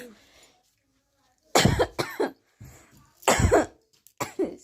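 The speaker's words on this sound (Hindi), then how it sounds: "खांसी उठ गई" A woman coughing in several harsh, close bursts, with short silent gaps between the fits and a throat-clearing quality to some of them.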